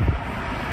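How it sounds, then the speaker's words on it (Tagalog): Strong wind buffets an outdoor microphone with steady low rumbling gusts, moderately loud, with no voices. "lumalakas po ang hangin"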